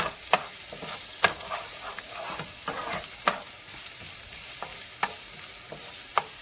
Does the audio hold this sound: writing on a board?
no